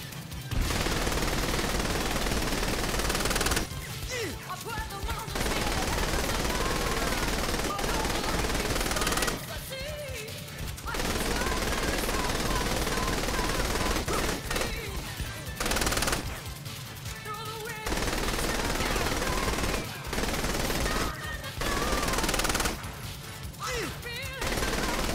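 Shotgun and other weapons fire in a gang-war battle in Saints Row The Third Remastered, with loud, dense bursts of gunfire broken by brief pauses across the whole stretch and a voice faintly heard at times.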